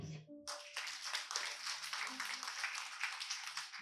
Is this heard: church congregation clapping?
yes